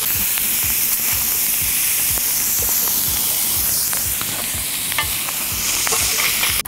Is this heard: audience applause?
no